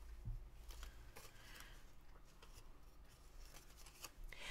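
Scissors trim blue craft material in quick repeated snips, close and quiet, a run of crisp cuts and light rustling with no talking.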